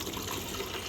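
Water gushes steadily from a tap or hose while plants are being watered, a continuous close splashing hiss filling the brief moment with no talk.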